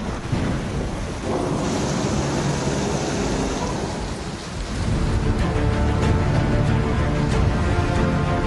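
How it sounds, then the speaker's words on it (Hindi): Heavy rain pours steadily during a thunderstorm in Balochistan, with loud rumbling thunder rolling through the dense hiss of rainfall, all close and continuous without voices. "बलोचिस्तान में बारिशों का तूफानी स्पेल।"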